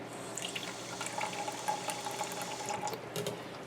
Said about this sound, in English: I'm going to add 1 ounce of water to start with.